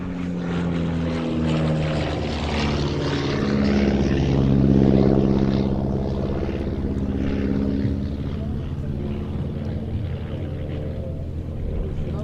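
A Miles Gemini propeller aircraft flies past, its engine hum swelling to a peak and then shifting in pitch as it moves away, with faint talk underneath.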